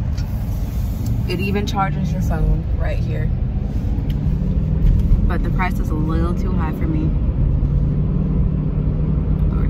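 A 2016 Chevy Tahoe LTZ, fully loaded and used, on a test drive gives a steady low road and engine rumble from inside the cabin while people talk over it.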